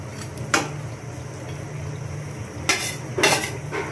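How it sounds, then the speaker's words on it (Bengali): Small bele fish are stirred gently into a pot of bubbling fish curry, with a few distinct metal spoon scrapes and clinks against the pot over a soft simmering background, no talking. "মাছগুলো দিয়ে আমি সুন্দর করে, যাতে মাছগুলো না ভাঙে,"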